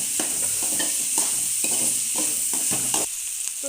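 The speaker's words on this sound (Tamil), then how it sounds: "வெங்காயம் வந்து நல்லா வதங்கணும்." Onions sautéing in a pan for mutton curry, with a steady close sizzle and repeated stirring scrapes spaced about every half second throughout.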